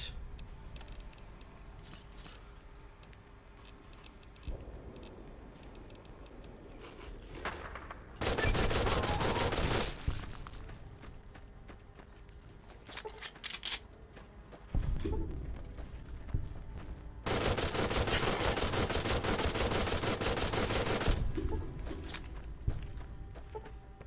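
Bursts of gunfire ring out in the video game Fallout: New Vegas, with two long loud stretches of rapid shooting between quieter passages of footsteps and smaller scattered shots.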